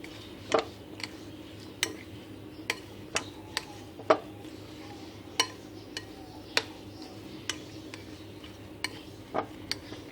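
Spiced potato filling for aloo paratha being stirred and mixed in a bowl, heard as faint, sparse clinks and taps of a utensil at irregular intervals over a low, quiet background.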